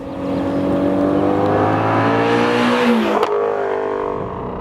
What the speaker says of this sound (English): I really hope you guys are appreciating the exhaust note of this car